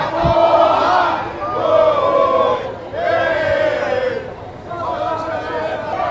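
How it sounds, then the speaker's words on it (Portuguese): Flamengo football supporters in Lima, Peru chant and sing in unison for a player, a loud massed crowd rising and falling in repeated sung phrases. "E a torcida vai cantando por ele."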